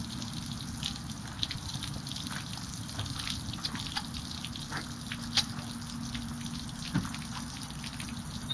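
Water running from a hose used to flush a Sea Ray 195 Sport boat motor, a steady hissing trickle with scattered drips and small splashes, moderately quiet and without voices.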